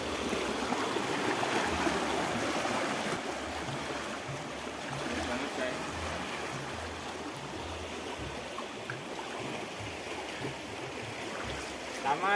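A strong current at Taman Wisata Batu Kapal in Yogyakarta rushes steadily in an even, continuous wash of flowing water at moderate volume.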